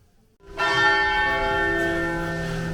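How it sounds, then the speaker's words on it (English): A church bell tower in the medieval hilltop village of Montecatini Alto, Tuscany, rings the noon bells: one loud, ringing bell stroke follows a brief quiet moment and then hangs in a long, shimmering decay. "The bell tower's ringing. It's be the 12 o'clock bells."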